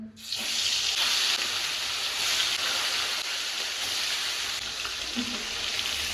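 Mustard oil sizzles hard in a pan with salt and turmeric, a loud, steady hiss that starts abruptly and runs unbroken and close throughout.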